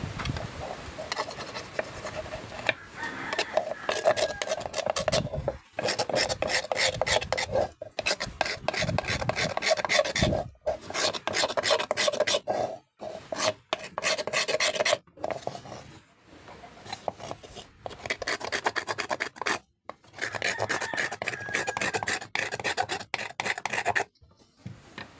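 A coconut shell bowl is rasped and smoothed with long, steady scraping strokes in close, continuous runs separated by brief pauses, with no talking.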